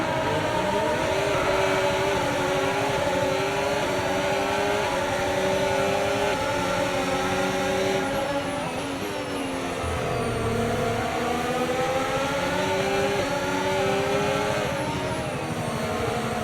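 F1 car launching from the grid at a race start in the F1 25 video game, a steady loud engine roar with rising and falling revs and other cars droning around it, continuous throughout.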